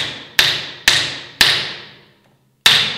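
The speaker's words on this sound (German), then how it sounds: "Und nageln das Ganze jetzt vor" Nails are hammered into a wooden baseboard: four sharp, ringing blows land close by at uneven intervals, each fading quickly, with a short silence before the last strike.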